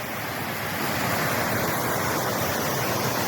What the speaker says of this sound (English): absolutely beautiful little creek.